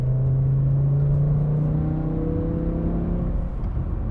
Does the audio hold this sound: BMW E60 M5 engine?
yes